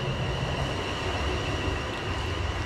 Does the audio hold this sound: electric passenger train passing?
yes